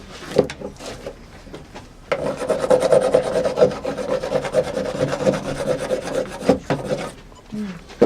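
Volcanic basalt stone rubbed back and forth across wood in a sanding motion, making repeated close, coarse rasping strokes that pause between bursts, with no talking.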